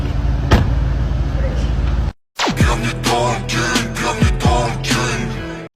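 A car door shut with a solid thud inside a vehicle, followed by a brief silence and then rustling and knocking sounds, with people talking nearby.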